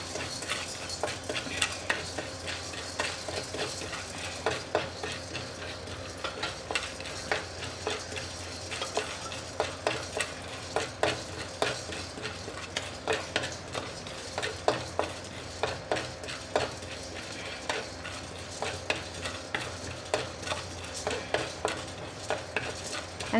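Repeated scraping and clinking of a spoon stirring asafoetida frying in oil in a pan, in a steady irregular rhythm over a faint background hiss of frying.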